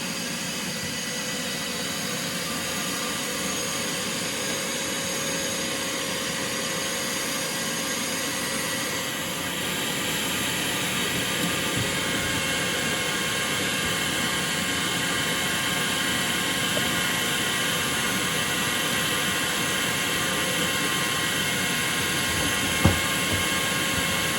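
A steady, loud whooshing vacuum on a Jegs bench-top blast cabinet drones throughout with a high whine, with no one speaking and only a brief click near the end.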